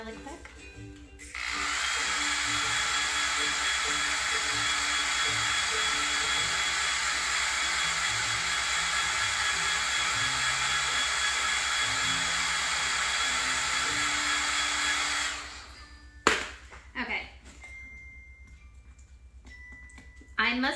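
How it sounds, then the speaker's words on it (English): A hair dryer roars loudly and steadily for about fourteen seconds, then cuts off, followed by a few clicks and handling noises. "Let me just get the hairdryer really quick."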